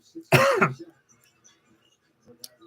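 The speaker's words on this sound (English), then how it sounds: "I apologize if you just heard my cough" A single short cough, close and sharp, followed by quiet with faint breathy rustles.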